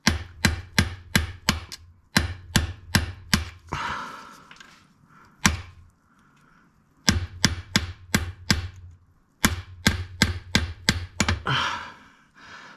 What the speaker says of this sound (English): So I'm just going to get that and try and hammer it out.